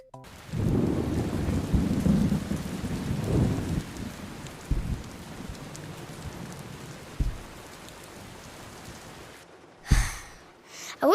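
Rain pours steadily in a cartoon scene while low rumbles of thunder roll, ending with a sharp, loud thunderclap near the end.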